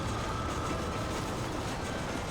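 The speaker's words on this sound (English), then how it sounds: "What's even on this train?" A train rolls along the tracks in the Red Dead Redemption video game, a loud continuous rumbling roar with a steady rattling clatter throughout and no voices.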